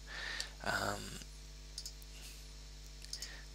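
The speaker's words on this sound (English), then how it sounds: "So you have to hold down Shift and keep clicking" Computer mouse clicking while a sky area is being selected with Shift held in photo editing software, heard as a few sharp close clicks over a steady electrical hum and brief background noise.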